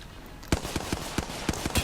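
Gunfire in Apex Legends, a string of sharp, fairly light shots spaced irregularly, roughly eight pops over a couple of seconds against a low background hiss.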